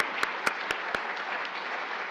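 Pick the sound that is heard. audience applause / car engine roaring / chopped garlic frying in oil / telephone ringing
audience applause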